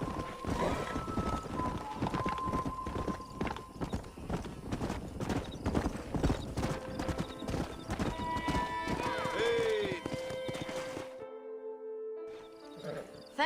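Video game hooves clip-clop in a busy trotting rhythm as several horses move close by, with a whinny rising over them before the sound thins out.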